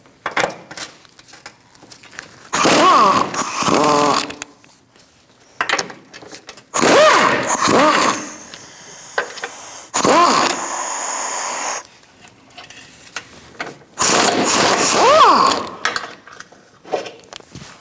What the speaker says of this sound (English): We're going to start by removing these 4 nuts using a 13mm socket.